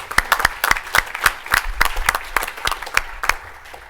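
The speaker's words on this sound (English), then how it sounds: "I think that deserves a round of applause." A small audience claps for a staff member's 15-year work anniversary at an organization update meeting. The claps are sparse and distinct, a few hands in a loose, fairly quick rhythm, fading slightly toward the end.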